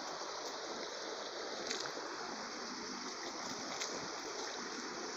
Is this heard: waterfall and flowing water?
yes